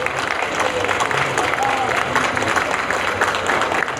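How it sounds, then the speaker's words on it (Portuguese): Applause from a crowd, steady clapping throughout that blends with some background voices. "pedir uma salva de palmas"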